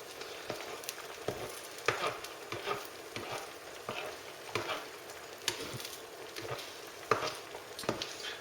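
Cheese omelette eggs sizzle quietly in a pan, with repeated scraping strokes back and forth making soft, irregular scratchy bursts over a low, steady fry.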